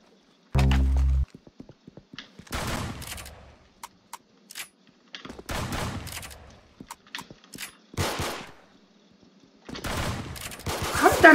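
Rapid bursts of gunfire in the online shooter game Arsenal during a one-on-one match, coming in repeated sharp volleys separated by short gaps, loud and close with no talking.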